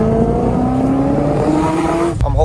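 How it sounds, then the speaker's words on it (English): An 800hp Corvette C6 engine roars loud and close, revving with a rising pitch, then a sharp crack and a quick burst of higher revs at the end. "Pull right up to the front of Matt's dealership and rev it up."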